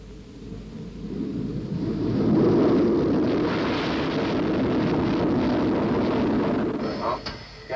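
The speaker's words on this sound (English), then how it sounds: "The Jaguar was cleared for its first takeoff." SEPECAT Jaguar jet aircraft taking off on its first flight, a loud sustained broadband roar that swells and holds steady for several seconds, with wind buffeting on the microphone.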